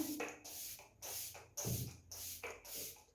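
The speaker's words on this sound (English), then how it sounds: "Let me spray, and then" Five short hissing bursts of aerosol spray, evenly spaced with brief gaps between them, close by and fairly loud, with no talking.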